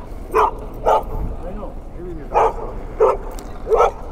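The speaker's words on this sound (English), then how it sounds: "Whose dog is this, dude?" A loose, unleashed dog outdoors barks five times in short, evenly spaced yips, close and fairly loud, with low background rumble and someone talking briefly between barks.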